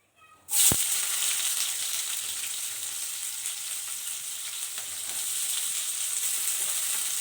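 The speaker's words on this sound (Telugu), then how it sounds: "ఇప్పుడు ఉల్లిపాయ వేసేసుకుందాము" Onions drop into hot oil in a pan for brinjal curry, and a steady close sizzle and frying hiss follows without a break.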